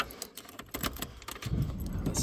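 An old set of keys jangles by hand near a 1985-1997 Ford truck with a 5.8L engine, a string of quick metallic clinks and rattles up close, no talk.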